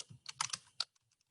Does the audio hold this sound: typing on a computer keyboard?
yes